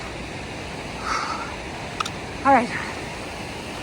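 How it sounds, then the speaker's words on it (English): Creek water flowing over waterfalls makes a steady broadband rush throughout, while a person speaks briefly over it and a few short louder sounds break in. "Check out these waterfalls"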